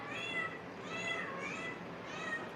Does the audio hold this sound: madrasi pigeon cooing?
no